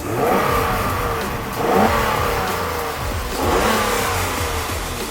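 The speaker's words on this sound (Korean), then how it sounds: "엔진 사운드는 이런 식으로 약간 높아요" A Hyundai Grandeur LPi 3.0 V6 engine revs up and eases off in two or three smooth surges, loud and close with a slightly high, strained tone, heard alone without talk.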